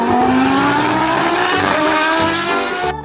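A toy Formula 1 race car plays a loud, close engine effect of a revving race car sweeping up in pitch for about three seconds and cutting off abruptly, with no talking.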